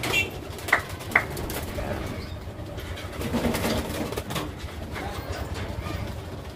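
A racing pigeon gives low, soft coos amid steady background noise, with a couple of sharp clicks near the start.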